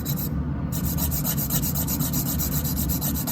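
A nail file rasps back and forth across fingernails in quick, even strokes, a close and steady scratching with no talking.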